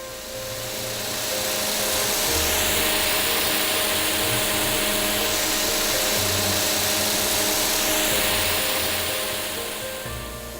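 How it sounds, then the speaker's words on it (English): A snow-making gun runs steadily after ice was cleared and a gasket replaced, giving a loud, continuous roaring hiss with a low mechanical hum underneath, holding steady for about ten seconds. "After John cleared the ice and replaced the gasket, the gun begins producing snow"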